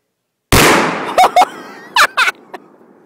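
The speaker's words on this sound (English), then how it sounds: "All I saw was an explosion." A loud explosion in a video game, a sudden close blast that decays over about a second, followed by several sharp pops and bangs trailing off.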